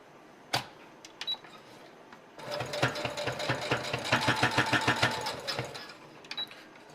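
A sewing machine stitches a fabric face mask, a few clicks before a rapid, even run of stitching for about four seconds, fairly quiet and close.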